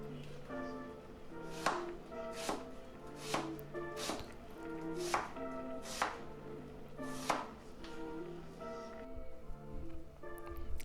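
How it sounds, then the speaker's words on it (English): A knife chops an onion on a cutting board in a steady series of sharp, close taps at roughly even spacing, over a faint background hum and without any talking. "let's go ahead and chop an onion. Just simple little choppy chop."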